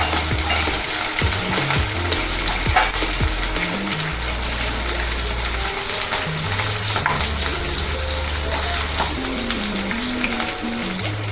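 Slit green chilies and curry leaves frying in a pan, with a loud, continuous crackling sizzle. Low tonal sounds and occasional stirring clicks run through the background.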